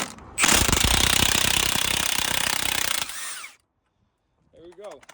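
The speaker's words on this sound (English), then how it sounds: "helps to have power tools to get this stuff off" A loud, hammering power tool rattles steadily for about three seconds while parts are removed from a 1994/1995 Ford Mustang spindle, then cuts off, leaving a brief quiet and a few faint clinks.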